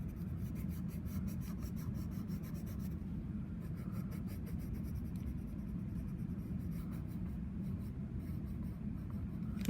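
Pencil colouring in a value scale on paper, a steady, close scratching of graphite strokes running continuously in one direction.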